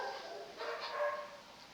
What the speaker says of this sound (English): I'm going to just speak over my rude dogs.